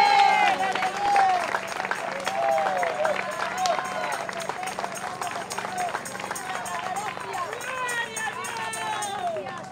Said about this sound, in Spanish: Dele palmas de alabanza al Señor, hermano.